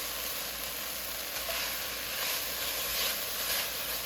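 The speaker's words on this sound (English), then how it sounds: "we're just going to let that saute till it's soft" Vegetables sauteing in a pot for broccoli cauliflower soup, a steady soft sizzle with faint stirring, continuous and close throughout.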